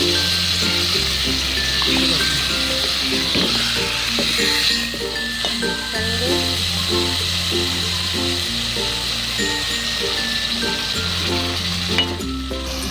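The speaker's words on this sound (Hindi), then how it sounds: "डालने के बाद हम इसे मिक्स करेंगे तमाम मसालों को।" Carrots are stirred through spices in a hot, sizzling pan, with a constant loud fry hiss and occasional soft scrapes and clinks. Background music plays underneath the whole time.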